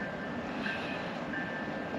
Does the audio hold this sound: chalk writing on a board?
no